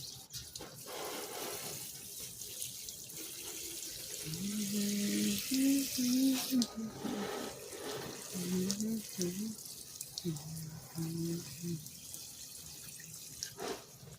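Water runs and splashes steadily while garden plants are watered in the morning, with a voice speaking over part of the flow.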